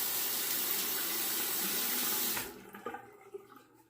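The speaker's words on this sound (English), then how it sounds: "I'll wet the razor." A tap runs steadily into a sink to wet a Valet Autostrop safety razor, a close, even rush of water that cuts off after a couple of seconds, followed by a few drips and small clinks.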